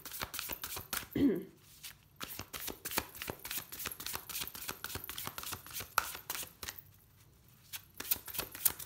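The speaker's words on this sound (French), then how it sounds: "On va couper on demande le message qui soit avec Isis" Oracle cards being shuffled by hand: a quiet series of rapid, crisp card riffles and flicks in irregular bursts, with brief pauses between, close to the listener.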